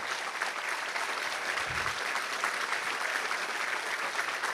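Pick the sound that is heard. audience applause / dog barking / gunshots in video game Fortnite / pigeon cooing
audience applause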